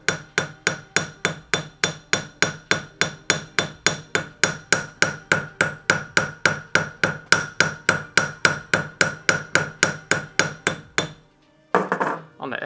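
A hammer pounds the edge of a metal sheet in a steady, fast rhythm of about three dozen ringing, evenly spaced blows, close and loud, then stops abruptly before a brief scrape of handling noise.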